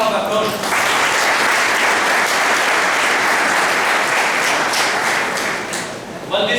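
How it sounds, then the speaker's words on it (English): An audience breaks into loud, dense applause at a lecture on personality development, sustained clapping for several seconds before tapering off, with brief speech at the start and end. "Please give the round of applause."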